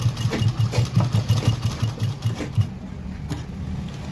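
A sewing machine stitches the lining of an umbrella gown, running in a fast, steady rhythmic chatter close by, then slowing and stopping near the end.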